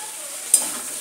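Food fries with crushed black pepper in a pan, sizzling steadily up close, with two quick scraping strokes of a spoon or spatula stirring it.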